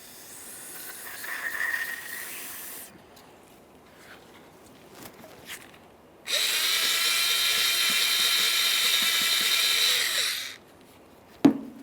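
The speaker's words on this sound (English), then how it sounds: "Parts cleaner and a bore brush." Spray from a can of parts cleaner hisses in two bursts, one brief and one long and loud, with a bore brush scrubbing the slider pin port of a 2009-2014 Nissan Maxima rear brake caliper bracket and a sharp clack at the end.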